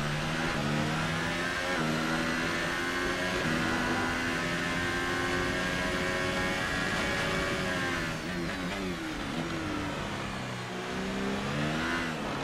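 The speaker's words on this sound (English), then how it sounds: "You can actually hear the tires sliding as well." A racing video game car engine revs and whines continuously, with shifting pitch as it accelerates and brakes, and some squealing from sliding, worn tires mixed into the steady roar.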